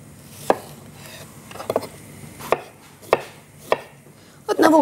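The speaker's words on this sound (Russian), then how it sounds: "Нарезаю огурцы вот такой вот тоненькой соломкой." A knife slices cucumber into thin julienne strips on a cutting board, with sharp, isolated chops spaced about a second apart and a quick cluster of cuts at the end.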